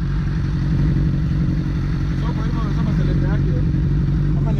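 A Suzuki GSX-R 600 sportbike engine runs steadily near by, a low, loud throbbing idle with slight revving, while people talk over it.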